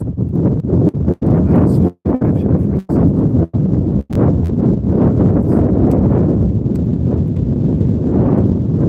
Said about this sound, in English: the wind just blowing in your ears the whole time